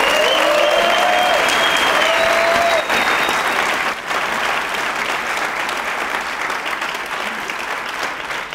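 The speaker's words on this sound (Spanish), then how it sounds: "Así que un aplauso a ellos." Loud, sustained crowd applause at a motivational talk fills the space continuously, with a few whistles riding over the clapping early on.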